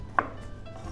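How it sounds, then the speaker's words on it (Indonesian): A knife roughly slices garlic on a board, giving one clear close chop and a few faint follow-up taps over a low kitchen background, with no talking. "Biar cepet kita slice aja nggak apa-apa."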